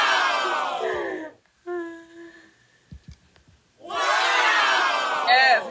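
Crowd cheering sound played for lottery winners, a loud burst of many voices whooping and shouting, then a short gap with a few tones and clicks, followed by a second roaring wave of cheers.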